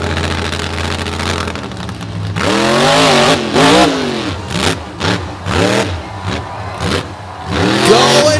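Dirt Crew, a flying dump truck monster truck at a beach show, roars loudly up close, its engine revving in repeated rising and falling surges over a steady idle rumble.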